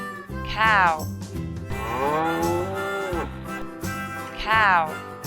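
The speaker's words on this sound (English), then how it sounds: "cow." A cow moos loudly two or three times, long drawn calls at the start, middle and end, set over steady background music.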